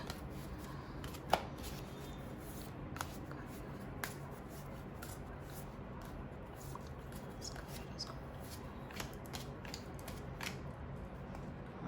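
Tarot cards are handled and drawn from a deck, giving faint, sparse soft snaps and slides over a quiet room background.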